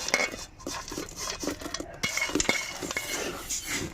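Coarsely crushed turmeric roots dry-roasting in a pan for Andhra kura karam spice powder, with continuous scraping, stirring and metallic clinks of a spatula against the pan, close and fairly loud.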